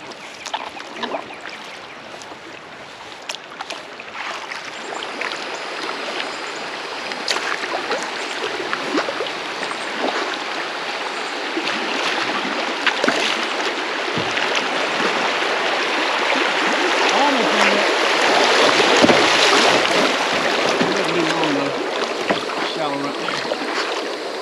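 A canoe moves through a rocky stream, a broad rushing water wash that swells toward the end with scattered knocks and scrapes of the hull, and people talking faintly at times.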